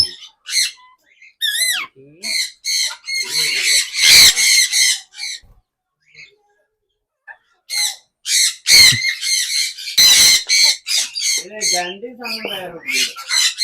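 Loud, repeated squawks and shrill calls from many birds overlap in bursts, with brief quiet gaps between the raucous outbursts.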